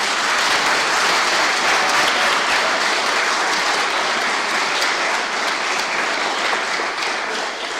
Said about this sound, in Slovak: Poprosím ešte raz veľký potlesk pre účinkujúcich.